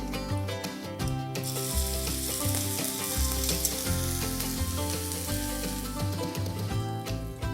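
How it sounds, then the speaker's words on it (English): Steady loud sizzling of chicken, spinach and prosciutto involtini frying in a pan, continuous crackle throughout with no talking. "So my involtini has been frying off just for a few minutes in the pan"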